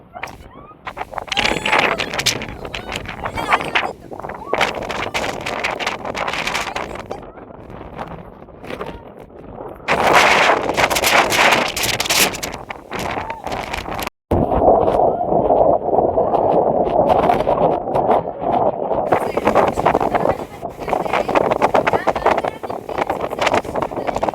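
Strong gusts at a hilltop temple viewpoint buffet the microphone in loud, roaring bursts, while a person talks over and between the blasts.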